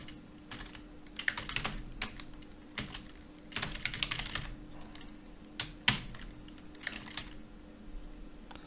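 Close, clicky typing on a computer keyboard comes in irregular bursts of keystrokes with short pauses, and the room is otherwise quiet.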